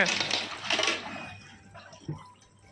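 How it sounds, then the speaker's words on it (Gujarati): Water pours and splashes into a bucket, loud at first then fading to a softer trickle, with a brief clunk near the end. "ડોલ જો ભરાવામાં છે"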